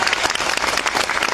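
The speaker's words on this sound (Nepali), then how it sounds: "कृपया कन्टिन्यू विजय कुमारको लागि जोरदार ताली एकपटक" Crowd of audience members clapping loudly and steadily in a packed hall, a dense continuous wash of applause with no break.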